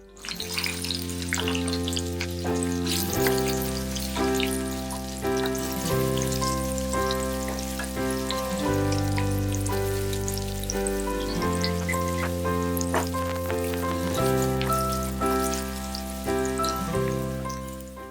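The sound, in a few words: onions frying in hot oil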